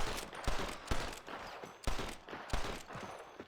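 Sniper rifle fire in Red Dead Redemption 2, several sharp, booming shots spaced at irregular intervals, each with a brief echoing tail, moderately loud.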